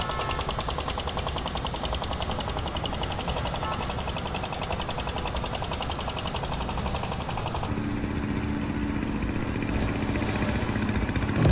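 A tractor engine runs close by, a steady loud rattling chug with a rapid pulsing beat that continues without pause.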